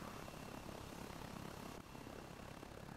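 A continuous loud aircraft engine roar from the DayZ/Arma Exile mod fills the moment, dipping slightly partway through before carrying on at full strength.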